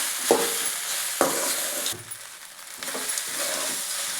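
Idli pieces fry for upma in a hot pan with a steady close sizzle, broken by a few sharp clanks and scrapes of a spoon stirring them.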